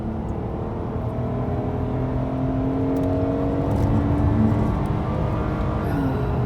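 The 3.3-litre, 260-horsepower engine of a 2009 Hyundai Grandeur sedan hums and rises in pitch as it accelerates steadily, heard from inside the cabin with a constant road whir.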